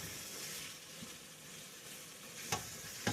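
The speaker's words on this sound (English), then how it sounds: "So I'll let this meat cook down. Chorizo cook down." Chorizo with peppers and onions cooking down in a pot, a soft continuous sizzle and bubbling hiss at low level, broken by a couple of quick utensil clanks near the end.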